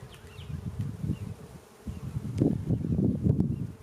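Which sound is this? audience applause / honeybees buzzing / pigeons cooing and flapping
honeybees buzzing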